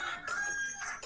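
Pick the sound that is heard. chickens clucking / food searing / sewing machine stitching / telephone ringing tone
chickens clucking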